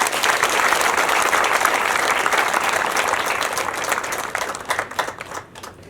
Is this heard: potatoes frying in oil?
no